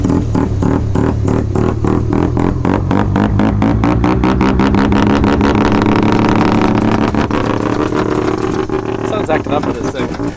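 A Datsun's rotary engine runs and revs close by, a steady loud mechanical drone with rhythmic pulsing and rising pitch, while a person talks over it throughout.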